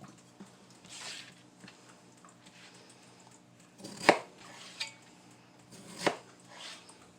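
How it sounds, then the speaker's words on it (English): Knife chopping potatoes on a board for mashed potatoes: a few sharp, separate cuts spaced a second or two apart, close and fairly quiet, with faint handling noise between them. "Cut them down the middle. Cut them down this side and this side."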